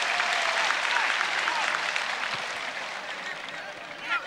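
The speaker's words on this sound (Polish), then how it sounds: "Zasłużone brawa dla jednego z ulubieńców lubińskiego stadionu." Stadium crowd applauding during a UEFA Cup first qualifying round football match between Zagłębie Lubin and Dynamo Minsk in Lubin, a dense, steady wash of clapping that fades slightly, with a commentator talking over it.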